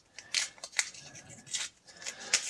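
Papery crinkling and tearing as an original bank roll wrapper of silver dollar coins is peeled open by hand, in several short, close, irregular bursts with quiet gaps between them.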